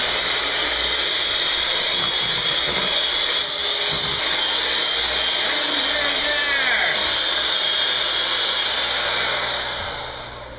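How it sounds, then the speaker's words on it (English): An electric hand mixer runs at top speed whipping egg whites toward stiff peaks, giving a steady, loud whirring drone that holds for about ten seconds before tapering off at the end. "turn your juice up on your mixer to ludicrous speed, and beat until you get to stiff peaks"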